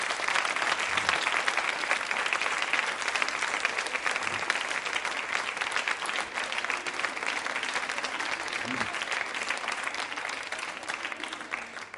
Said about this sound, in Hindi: आप जोरदार तरीके से बजा सकते हैं तालियां